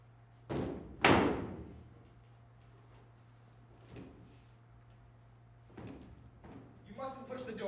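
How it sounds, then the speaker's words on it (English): A door being pushed at night gives a sharp knock followed by a louder bang with a rattling tail, then fainter thumps and creaks spaced apart, and a voice begins speaking at the end. "You mustn't push the door. You know what a noise it makes."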